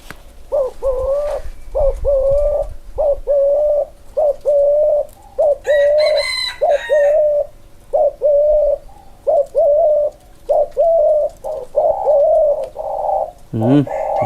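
A decoy dove coos repeatedly in a steady rhythm of short, soft hoots, close and clear, with a brief louder call breaking in midway.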